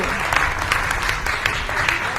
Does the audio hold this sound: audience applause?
yes